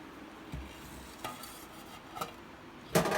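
Risen appam batter mixed in a vessel makes a faint, soft background with a few sporadic scrapes and taps of a spoon, the loudest near the end, with no voices.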